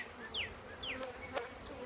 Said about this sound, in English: So these bees are just figuring out where they're at.